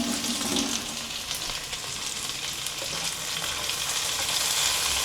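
Chili, garlic and onions fry in a pan for chili con carne, a steady loud sizzle with faint scraping as they are stirred, continuous throughout with no talking.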